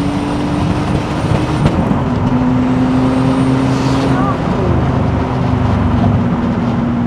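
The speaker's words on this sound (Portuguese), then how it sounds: "nós agora vamos sair de terceira, para tentarmos perceber o comportamento do carro" BMW E34 with a swapped 2.8i turbo engine accelerating hard from third gear, heard from inside the car as a loud, sustained engine drone with a steady rising tone throughout.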